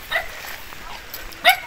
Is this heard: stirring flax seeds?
no